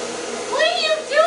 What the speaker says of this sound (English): Sounds like my blow dryer.